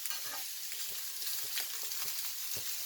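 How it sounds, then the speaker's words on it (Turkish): İnegöl meatballs fry in a pan while being turned, a soft steady sizzle with scattered pops and scraping clicks from turning, fairly faint and with no speech. "Köfte sürekli çevirerek de kızartabilirsiniz."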